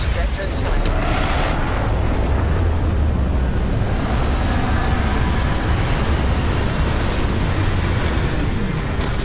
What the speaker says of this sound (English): Landing struts primed. Retros fire.